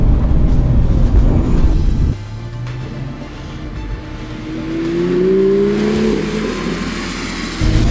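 A Subaru Impreza GDB rally car revs and accelerates loudly, its engine note rising and falling as it brakes and slides through a drift, with a sustained low rumble and climbing tones throughout.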